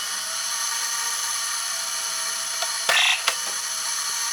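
A toy disc blaster's small motor whirs with a steady high-pitched whine, broken near the end by a couple of short, sharp bursts.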